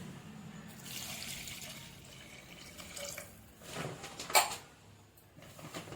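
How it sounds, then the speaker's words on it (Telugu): A glass of water poured into a mixture for a dried-fish and tamarind curry, a steady watery rush in a quiet kitchen, with a short louder splash near the end. "ఇందులో 1 గ్లాస్ వాటర్ వేయాలి ఫ్రెండ్స్"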